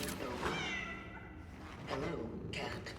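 A cat in the video game Cronos: The New Dawn gives a few meows amid quiet game ambience, with a person talking in between.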